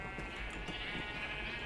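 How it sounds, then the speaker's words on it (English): Sheep in the Minecraft video game bleat repeatedly in quick succession, fairly loud and close, without any talking. "Probably not the most interesting thing watching me shoot sheep."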